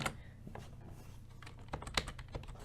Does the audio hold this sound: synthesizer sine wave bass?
no